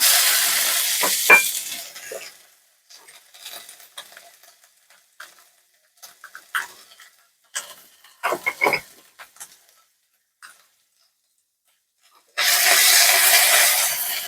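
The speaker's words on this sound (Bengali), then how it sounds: "ভালো করে আমি মশলাগুলোকে ভেজে নেব" Ginger paste and spices for shukto frying in a pan, bursts of loud sizzling at start and end with scattered pops and crackles of stirring between quieter gaps.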